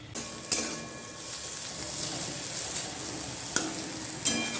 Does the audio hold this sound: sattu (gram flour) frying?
yes